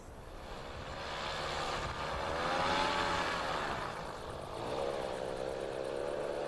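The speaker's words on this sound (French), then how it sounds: "Alain Arnoux a été autorisé à utiliser un parapente motorisé pour profiter de la vue d'ensemble du site, une grande nouveauté." Motorized paraglider engine droning steadily while flying over the ruins of the Punic city of Kerkouane, a continuous buzzing hum at moderate distance that swells and eases slightly in pitch.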